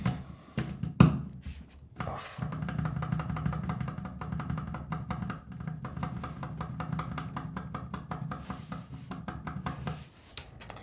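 Kali Box Burnt Orange mechanical keyboard switches being typed on, a fast, steady patter of close keystrokes with a few heavier thocks at the start and a pause near the end.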